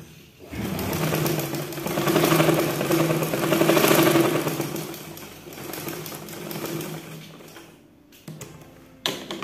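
A sewing machine stitches the lining along the bottom hem of a women's asymmetric blouse, a steady close motor whir with rapid needle chatter running for several seconds before stopping near the end.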